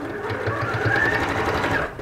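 A sewing machine stitches steadily at close range for about two seconds, working back and forth over fabric on a cushion made from an upcycled t-shirt. No one talks over it.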